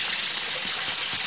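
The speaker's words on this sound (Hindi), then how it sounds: "मुझे लगता है तुम्हारे घर में कहीं पानी बह रहा है।" Water runs steadily somewhere in a cartoon house, a continuous, even rushing flow that stays loud and unchanging throughout, with no voices over it.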